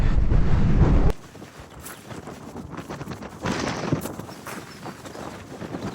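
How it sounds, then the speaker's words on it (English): Heavy wind buffets the microphone, loud at first then settling into steady gusty rumble that swells again midway through. "It's so windy, man."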